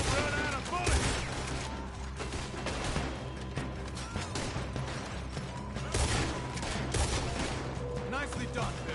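Heavy gunfire in the video game Red Dead Redemption II, dense overlapping shots and volleys throughout a firefight, with game voices speaking amid the shooting.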